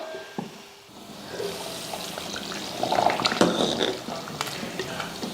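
Water poured into a pot of Naatu Kozhi (country chicken) curry, a soft continuous liquid splash and fill sound building midway, close and moderate, with no talk.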